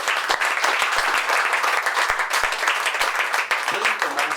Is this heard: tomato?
no